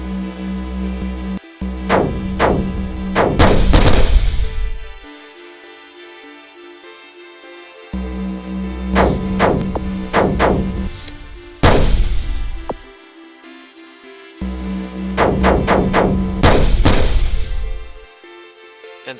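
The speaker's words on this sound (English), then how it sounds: "they will shoot at any asteroids that they see and just start mining them for us" Mining drones in the Tachyon Starwisp mod of a space video game firing on asteroids, heard as three loud bursts of repeated heavy shots with clanging impacts, separated by near-silent gaps.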